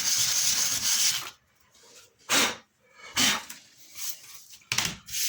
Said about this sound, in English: we just need to rub over with a piece of sandpaper just to smooth off any roughness